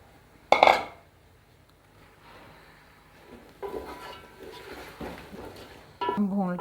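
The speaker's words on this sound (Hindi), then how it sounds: "अब हम इसमें ये मटन डाल देंगे।" Chunks of mutton drop into a pot of spices for pulao with a sharp metallic clatter and sizzle. Quieter scraping and stirring against the pot follow, and a closing clink of utensils on metal comes near the end.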